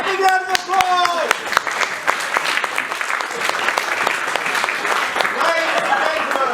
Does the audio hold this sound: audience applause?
yes